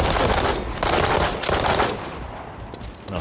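Rapid light machine gun fire in the World War 3 video game, a dense sustained burst of close, loud automatic shots with brief pauses, continuing across the whole stretch with no talking.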